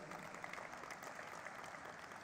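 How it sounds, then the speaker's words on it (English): Round of applause at the NSE Emerge listing ceremony for Credent Connect N Care Limited, a short, steady patter of clapping from the gathered audience, even and moderately distant throughout. "Can we have a huge round of applause?"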